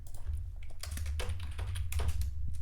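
Code being typed on a computer keyboard: quick, uneven bursts of close key clicks and taps pattering continuously, with a low hum underneath and no talking.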